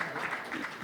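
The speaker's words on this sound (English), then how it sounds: "You want to keep clapping as he comes" An audience applauds a speaker being welcomed at a gathering of Nigerians in Russia, giving a steady wash of clapping at moderate distance with no voices standing out.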